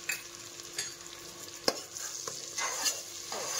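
A spice mixture frying in a pan is stirred with a spoon, giving a close sizzle broken by several scraping strokes and a sharp clink of metal, with no talk.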